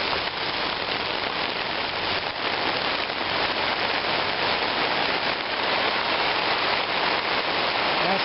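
Steady rain drums evenly on a tarp in a continuous, dense patter, close and loud throughout with no breaks or voices.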